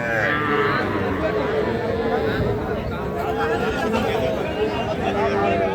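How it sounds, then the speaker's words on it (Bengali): Calves and cattle mooing at the Aftabganj cattle market, low calls rising over a constant murmur of crowd chatter and people talking. "এই পাশে দেখতেছি যে বেশ কিছু বাছুর গরু"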